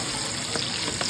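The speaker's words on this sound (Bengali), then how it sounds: "পেঁয়াজটা লাল হলে আমি মিক্সটা ছেড়ে দিলাম" Onion and spice paste frying in a pan for a hilsa fish curry, giving a steady, close crackling sizzle that runs unbroken throughout with slight stirring shifts.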